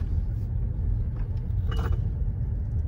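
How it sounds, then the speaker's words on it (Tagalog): Cars in a busy mall parking area, a low steady rumble of engines and traffic with a faint passing clink. "Ayan, daming mga sasakyan."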